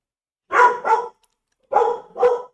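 A dog barks indoors in the room, two pairs of quick, loud, close barks separated by a short silence.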